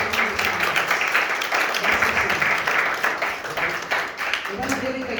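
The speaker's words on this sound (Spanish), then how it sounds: "dale un aplauso al Rey del Rey" Sustained applause from a congregation at a baptism, dense clapping continuing steadily for several seconds with voices mixed in underneath.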